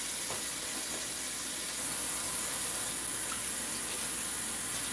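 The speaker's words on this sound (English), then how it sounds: "rinse all your meat off" Tap water runs steadily into a sink while raw pork is rinsed clean of blood and residue, a continuous hiss and splash at moderate, even level with no voices.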